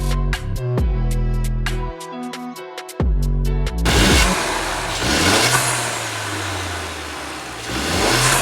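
A 2015 Mercedes-Benz A-Class with a 184 hp engine accelerates, its engine drone rising loud and steady from midway through, after several seconds of other tonal sounds with sharp starts.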